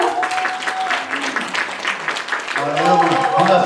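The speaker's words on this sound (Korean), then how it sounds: "여러분, 큰 박수 부탁드립니다." Applause from an audience at a Korean book launch and book concert, a busy clatter of clapping with voices mixed in, and a louder stretch of talking near the end.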